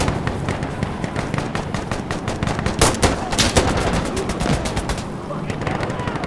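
Rapid automatic gunfire from the video game Insurgency Sandstorm rattles in dense bursts for several seconds, loud and continuous with overlapping shots throughout.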